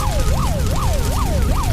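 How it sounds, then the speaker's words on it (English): Police sirens wail in a steady repeating rise-and-fall cycle, loud and close, with a low rumble of traffic underneath and no voices. "Sirens. More police."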